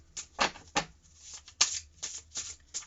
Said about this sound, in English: Let's pull a universal energy affirmation card